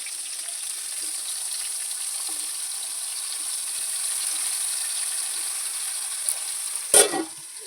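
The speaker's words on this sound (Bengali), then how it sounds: "তো আজকে আমি গোল গোল করে বেগুন ভাজা করছি।" Round brinjal slices frying in oil in a pan on a gas stove, a steady faint sizzle throughout, with a sharp clatter near the end.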